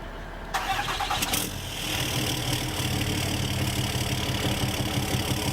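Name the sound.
truck engine moving in Farming Simulator 2015 video game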